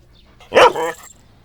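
A single dog bark in a Tamil film scene, a short sharp bark followed by a softer second yelp, close and clear against a quiet background.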